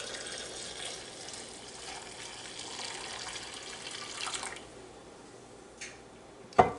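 Turmeric tea pours through a strainer in a steady, soft liquid trickle lasting several seconds, then thins out, ending with a sharp clink.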